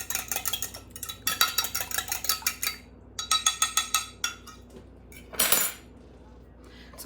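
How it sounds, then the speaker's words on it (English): Quick bursts of rhythmic metallic clinking as an egg is beaten with a utensil in a measuring cup, fast taps in several runs separated by short pauses, close and clear, with a louder scrape near the end. "crack this egg. And I'm going to go ahead and beat it slightly before I add it"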